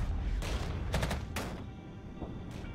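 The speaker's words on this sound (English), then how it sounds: "Taking a lot of fire because they're entrenched." Rapid bursts of gunfire from entrenched enemy troops in the war strategy video game Regiments, crackling volleys in quick clusters heard at moderate distance over a steady battlefield rumble.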